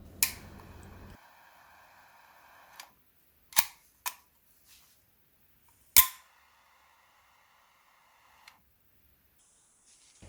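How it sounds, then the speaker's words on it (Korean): A life-size pistol-shaped lighter whose slide snaps forward and sparks when the trigger is pulled, heard as several sharp, isolated metallic clicks and snaps spread across a quiet stretch, one louder crack standing out among them. "이 상태에서 방아쇠를 당기면 이렇게 슬라이드가 탁 전진하면서 불꽃이 나옵니다."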